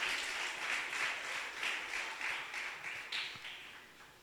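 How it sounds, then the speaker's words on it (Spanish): A church congregation applauds during a prayer service, a steady wash of many hands clapping at moderate distance, fairly faint and fading toward the end. "Se va a aplaudir al Señor, dele gracias."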